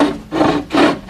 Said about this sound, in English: I'm going to saw a little bit